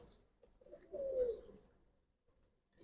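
A female Giribaz pigeon of the Palla line gives a single soft, low coo, close and faint against a quiet background.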